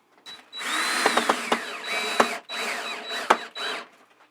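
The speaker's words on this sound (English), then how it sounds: "Now I'll work on the 3/4 screws that go on the sides." A power drill drives 3/4 inch screws into the sides of a Lack table for a 3D printer enclosure. It gives several close, loud whirring runs that rise and fall in pitch, separated by short pauses and sharp clicks.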